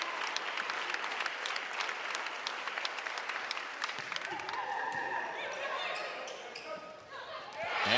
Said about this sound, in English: Crowd to its feet once again as Hannah Kinney will take aim.